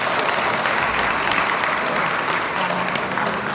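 An audience claps steadily throughout at a grand finale exhibition event, a dense, even wash of applause with no pauses.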